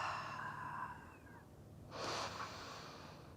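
A single deep breath taken during a yoga practice session, a soft airy exhale that trails off, then a brief pause before a stronger, breathy inhale or sigh swells up near the microphone.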